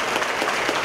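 Audience applause from a concert crowd at a song contest winner's performance, a brief dense burst of steady clapping heard up close.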